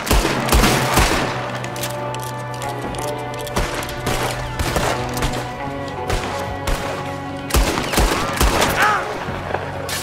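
Gunfire in the Western video game Red Dead Redemption 2, dense rapid bursts of shots and heavy impacts over a droning music bed, loud and continuous throughout.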